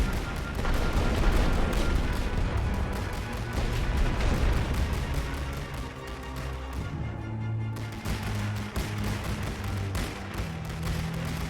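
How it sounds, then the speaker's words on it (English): Machine gun fire rattles across a World War I battlefield in The Great War: Western Front, loud rapid bursts layered with scattered rifle shots and distant booms, pausing briefly before resuming. "they'll just stand there and die to a machine gun"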